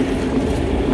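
An old classic car that sat unused for years rolls along with a brief, steady, close rumbling rattle.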